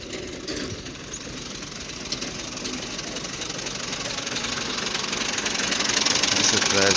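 A tractor hauling a loaded brick trolley runs with a steady, close, knocking diesel rumble that grows slightly louder toward the end.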